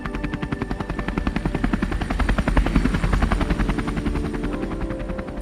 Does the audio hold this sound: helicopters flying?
yes